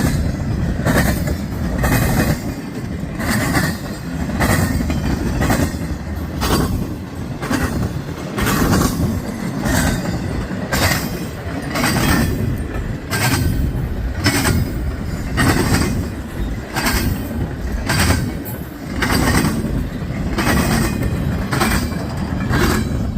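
A train rumbles steadily past on the rails, its wheels clicking over joints in a regular rhythm, loud and close throughout.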